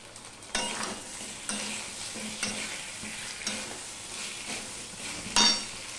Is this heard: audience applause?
no